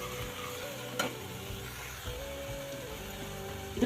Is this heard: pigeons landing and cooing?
no